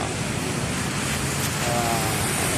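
Floodwater from the overflowing river in Rosario, Pasig, during Typhoon Carina makes a loud, constant rushing roar with no break, close and filling the whole stretch.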